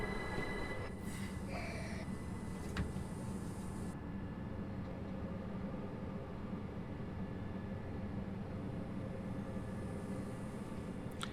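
A Class 375 electric train in Train Sim World 6 rumbles along the Medway Valley Line, a steady low running drone with faint squeals and a brief higher tone early on, no voices.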